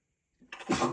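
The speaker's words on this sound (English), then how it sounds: "Allergy sneezes are so hard to stifle." A single short, stifled allergy sneeze bursts out after a moment of silence, soft and muffled as it is held back.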